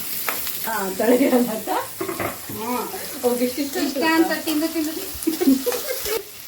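Onions sauté in a pan with a soft sizzle, while a spatula stirs and scrapes in irregular bursts; a voice talks over the cooking.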